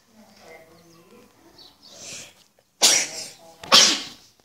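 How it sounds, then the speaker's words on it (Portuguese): Two sharp, loud sneezes burst out close to the microphone in quick succession, preceded by softer breathy murmuring and sniffing. "Desculpa pelos espirros aí."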